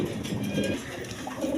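Pigeons cooing at a farm selling birds in pairs: soft, low cooing rolls on and off under a steady background murmur, moderately close.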